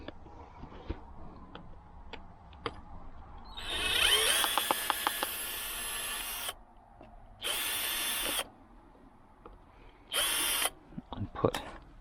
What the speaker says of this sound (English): what I want to do is unscrew this bad boy.